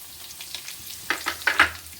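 Onions and cashews frying in a pan, turning golden, with garam masala and coriander seeds: a steady low sizzle broken by a few brief, sharper crackles and spoon-scraping bursts near the end, with no talk.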